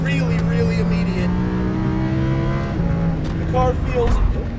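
A Lamborghini Huracan LP610-4 with ceramic brakes drives hard on a race track, its engine droning with steady, shifting tones and pitch changes, loud and close, with a voice likely talking over it.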